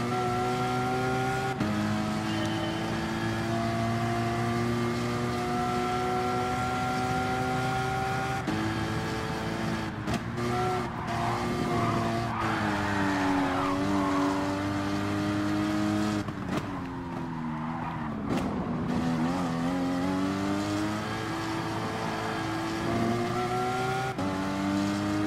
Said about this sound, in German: Wir fahren mit dem Porsche.